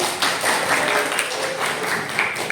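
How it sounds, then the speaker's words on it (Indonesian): Small group clapping hands together during an academic supervision session for a teacher training program, a steady dense patter of claps at moderate level throughout, with no clear speech over it. "tepuk tangan."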